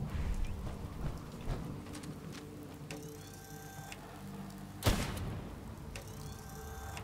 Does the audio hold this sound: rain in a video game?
yes